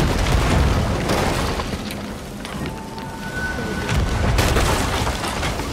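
Ship cannons firing at sea in the video game Sea of Thieves, heavy booms rolling through a dense, noisy mix of crashing water and rumble.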